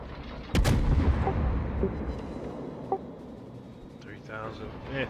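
A heavy naval gun salvo from a Des Moines cruiser firing armor-piercing shells in World of Warships booms loudly near the start, with a rolling tail and a smaller thud a few seconds later.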